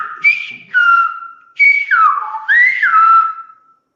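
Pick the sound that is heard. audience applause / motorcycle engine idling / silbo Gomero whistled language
silbo Gomero whistled language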